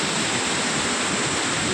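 Heavy floodwater rushes steadily through the Peddavagu stream, a dense, unbroken roar close by with no pauses and no voices.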